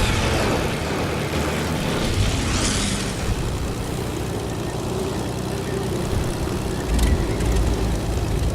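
A propeller airplane in Fortnite drones steadily and loudly throughout, its continuous engine hum holding without a break.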